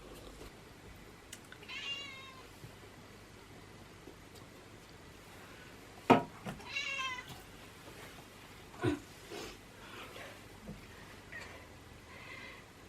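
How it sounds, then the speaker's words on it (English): A pet cat meows indoors in a few faint, scattered calls spread across a quiet room, with small knocks and rustles in between and no talk. "You just wanted to meow and disturb me?"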